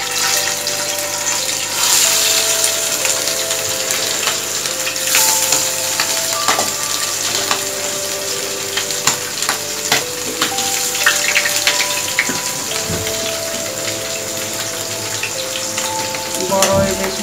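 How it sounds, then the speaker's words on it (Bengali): Large hilsa fish sizzles loudly in hot oil in a home kitchen, a dense continuous crackle and spatter close up with occasional stirring clatter, holding steady throughout. "এখন আমি ইলিশ মাছ ভাজি করব।"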